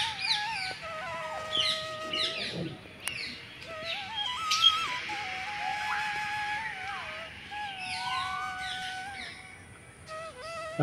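Assorted birds chirp and call at a mini zoo near a swan enclosure, a busy mix of short tweets and whistles at moderate distance over faint background noise, with no talking.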